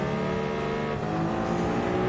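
A Maserati MC20 with a racing exhaust drives on track in Gran Turismo 7, its engine holding a loud, continuous, raspy howl with a slight pitch shift midway, heard alone.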